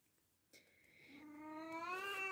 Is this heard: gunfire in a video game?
no